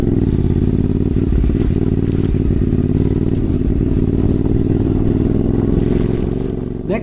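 A CFMOTO 450MT motorcycle engine runs close by with a loud, steady, rumbling drone that holds for several seconds and eases off slightly at the end, with no voices.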